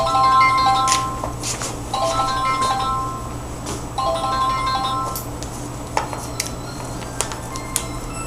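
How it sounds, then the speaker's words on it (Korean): A mobile phone ringtone plays in a lecture room as a repeating electronic melody of bright tonal chimes, pausing between phrases, under a low steady hum. "여기 꺼놔야 돼. 좋은 전화가 와."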